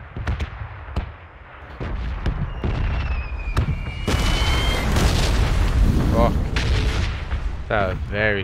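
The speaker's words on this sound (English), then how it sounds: "Very close explosion." A very close explosion in the video game PUBG booms amid a run of sharp blasts and gunfire cracks, loud and dense, with voice chat talking over parts of the game audio.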